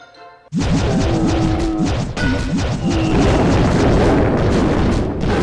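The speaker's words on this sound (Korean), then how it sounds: "자이언트를 대포를 다 부수고" Giants smashing cannons in the mobile strategy game Clash of Clans: after a brief quiet start, a loud, dense barrage of crashing impacts and booms rolls on without pause to the end.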